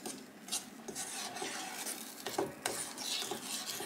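Two sticks of salted butter and a cup of brown sugar are stirred in a pot for saltine toffee. Soft, uneven scraping and swishing of a spoon runs close and fairly quiet, with no talking.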